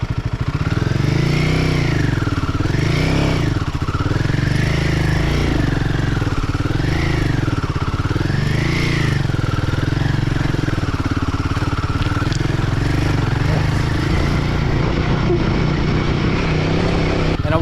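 A Royal Enfield Himalayan 450 adventure motorcycle climbs uphill over rough ground. Its engine drones loud and close in continuous rising and falling surges as the revs change, with wind and clatter and no clear speech.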